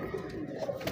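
A female Sialkoti and Golden cross breeder pigeon gives a short, faint, low coo, close by, with no talk over it.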